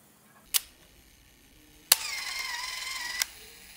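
A Fujica Auto-5 film camera: a sharp mechanical click, then another click followed by the self-timer's quiet whirring buzz for over a second, ending with a final shutter snap; faint and close.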